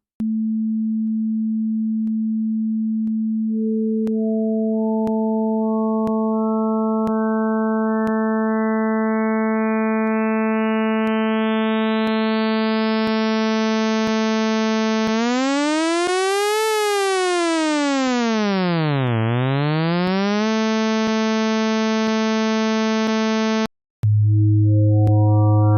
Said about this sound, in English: you can generate complex waves like sawtooth waves or square waves by combining sine waves